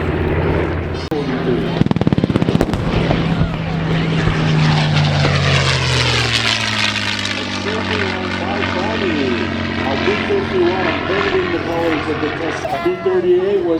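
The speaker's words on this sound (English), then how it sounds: "That airplane came around and it flew very successfully." A propeller warplane, a Grumman Hellcat, flies past at an airshow with a loud droning engine that swells and sweeps in pitch, blended with crowd and announcer talk throughout.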